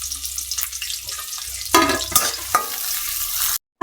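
Onions and green chillies sizzle steadily in hot oil up close, with occasional scraping as they're stirred; the sound cuts out briefly at the end.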